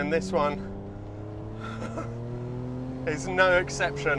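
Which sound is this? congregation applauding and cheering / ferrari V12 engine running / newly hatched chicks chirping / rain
ferrari V12 engine running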